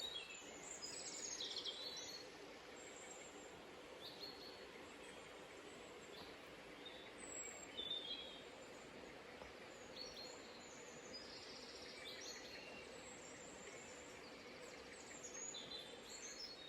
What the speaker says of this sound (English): listen to all the birds' song